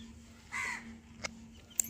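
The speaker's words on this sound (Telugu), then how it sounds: "కాకులు వచ్చినాయి" Crows cawing near a village home where chicks are kept, a few short, faint caws spaced apart against a quiet hum.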